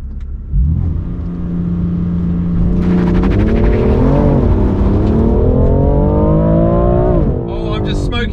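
A BMW M4 Competition, old F82 against new G82, launches off the line in a drag race with tires smoking: a loud, close engine roar climbs steadily in pitch through the pull, with a gear-change dip near the end and voices talking underneath.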